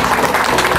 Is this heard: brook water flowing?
no